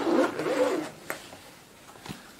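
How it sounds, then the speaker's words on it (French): A zipper on a small camera carrying pouch is pulled open in one quick close rasping run, then a soft click and light handling follow. "Et quand on ouvre la sacoche,"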